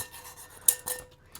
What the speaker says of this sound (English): Don't waste anything, so make sure you scrape out the bowl.